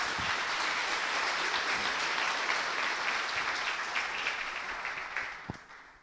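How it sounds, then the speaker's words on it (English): A conference keynote audience claps in sustained, dense applause that holds steady and then gradually tapers off over several seconds. "Big round of applause, everyone."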